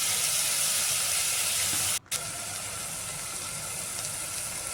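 Vegetables sautéing in oil for a hotel-style vegetable biryani give a steady, broad sizzle that holds at an even level, with one brief dropout near the middle.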